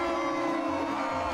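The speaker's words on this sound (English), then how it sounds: "They're booing him." A cartoon crowd boos in a sustained, droning chorus that holds steady and close throughout, with no clear words.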